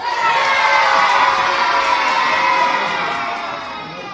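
A crowd of children at a school assembly cheers and shouts loudly and continuously, a dense roar of high voices that eases slightly toward the end.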